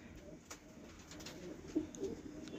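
High flyer roller and tumbler pigeon breeding pairs in Hyderabad give soft, repeated cooing, faint and fairly close against a quiet background.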